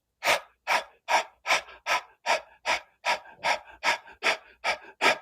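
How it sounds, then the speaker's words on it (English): Diaphragmatic breathing during a morning meditation, heard as about thirteen even, forceful breaths in quick regular rhythm, close and clear, with no talking. "Take a half a breath in."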